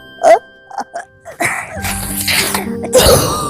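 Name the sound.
sneeze sound effect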